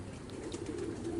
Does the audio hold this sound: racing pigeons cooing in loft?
yes